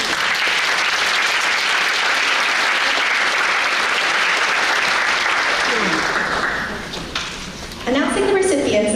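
A crowd at a scholarship award ceremony gives a loud, sustained round of applause after a presentation, dense clapping that thins near the end as a voice begins speaking.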